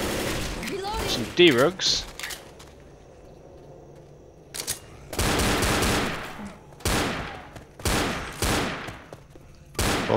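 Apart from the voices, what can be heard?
gunfire from video game Left 4 Dead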